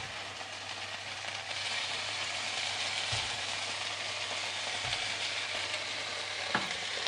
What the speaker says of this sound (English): So straight into the frying pan.